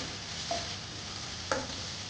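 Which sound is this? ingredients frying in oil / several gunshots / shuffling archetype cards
ingredients frying in oil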